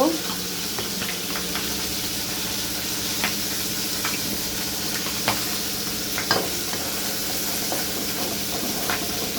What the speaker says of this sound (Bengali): যতক্ষণ পর্যন্ত মশলার ভিতর থেকে তেলটা না উঠে ততক্ষণ ভালো করে কষিয়ে নিতে হবে